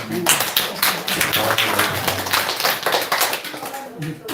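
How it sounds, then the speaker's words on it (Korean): A small church congregation clapping for a first-time accompanist, a brisk run of individual, fairly close handclaps lasting about four seconds, with a voice briefly heard among them. "박수 한번 주실까요?"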